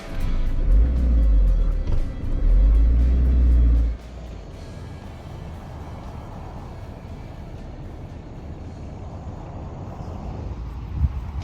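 A camper van climbs a hill in second gear with a loud, close engine drone under strain that drops off abruptly after a few seconds, leaving quieter road and wind rumble for the rest.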